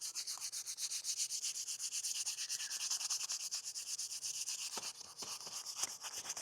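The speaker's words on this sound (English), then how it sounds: "the reason we are sanding is to make the paint stick better" Sandpaper rubbing steadily over Yamaha R 125 motorcycle parts to prep them for paint, a continuous close scratchy rasp in quick back-and-forth strokes with a few sharper scuffs near the end, no talking.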